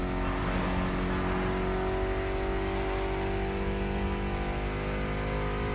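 Mitsubishi inline-four with about 280 horsepower in a racing game, a constant high revving engine note with strong steady harmonics, loud and close, with no talk over it.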